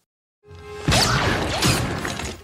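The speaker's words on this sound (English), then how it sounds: "it has the most satisfying blaster sound" Star Wars prequel-era sci-fi blaster pistol firing twice, close and loud. Each bright zapping shot has a falling, ricocheting whine trailing off.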